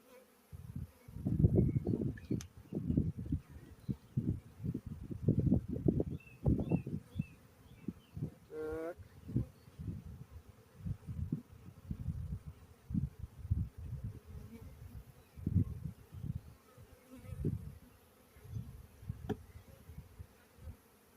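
Honeybees hum and buzz while a colony is moved into a new hive, a dense, low, fluctuating drone of many bees close by, with soft handling noises and one brief higher chirp, no clear talking.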